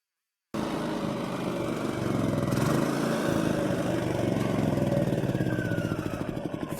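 A small RV generator engine runs steadily on fuel drawn from an external tank, a continuous mid-pitched buzzing drone close by that holds level, then grows slightly uneven and sputtery toward the end as it begins to starve of gas.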